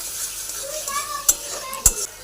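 Turmeric and cumin powder sizzle quietly in a pan while a spoon stirs, with two sharp clinks of the utensil against the metal standing out near the end.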